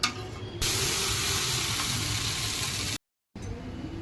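A loud, continuous sizzle of a sabudana (tapioca pearl) paratha frying in oil on a hot griddle, steady and close, cutting off briefly near the end before resuming.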